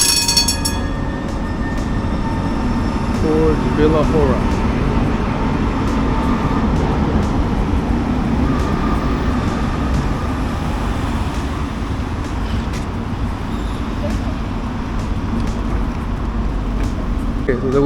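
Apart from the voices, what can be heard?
train arriving and running in Prague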